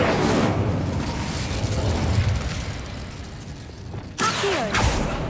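The Incendio fire spell is cast in Hogwarts Legacy with a dense, roaring burst of flame and crackling magic that stays loud throughout. A sharper whooshing flare erupts near the end.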